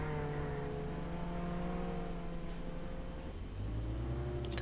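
Steady rain hiss falls in the Roblox game Jailbreak, mixed with a droning car engine whose pitch shifts partway through; constant and fairly loud throughout.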